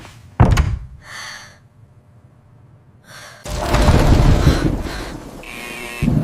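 Heavy thunks and bangs of a door being shoved and struck without opening, a loud close impact followed by repeated rattling blows and scraping, with a gasp and frightened breathing in between during a thunderstorm.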